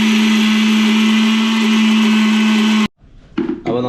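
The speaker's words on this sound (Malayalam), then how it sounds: "നമ്മൾ കുറച്ച് മുളക്, വെളുത്തുള്ളി ഇതൊക്കെ അരച്ചെടുക്കണം" A mixer grinder grinds chili and garlic with a loud, steady electric whine for about three seconds, then cuts off abruptly and is followed by brief faint clatter and sounds.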